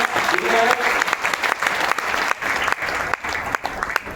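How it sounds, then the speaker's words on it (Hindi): An audience at a stage event claps vigorously in honor of the youth, a dense burst of applause with uneven swells and a few brief dips over about four seconds. "युवाओं के लिए जोरदार तालियां"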